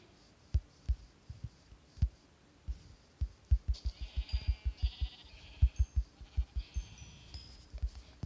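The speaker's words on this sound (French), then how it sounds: "Des petits moutons pour se faire un lit." Minecraft sheep let out a few short bleats over a steady run of thumping blows and footsteps, close and fairly loud.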